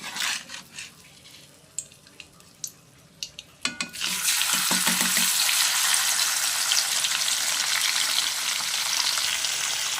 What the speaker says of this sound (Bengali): এবারে আমি মাছগুলো ভেজে নেব কড়াতে তেল গরম করে নিয়েছি মাছগুলো দিয়ে দেবো